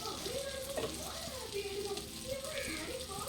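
Steady sizzling of fish frying in a pan, with a person talking over it throughout.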